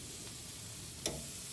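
Beef ribs searing on the sear side of a Masterbuilt smoker grill, heard as a continuous even sizzle with one brief louder crackle, close and steady.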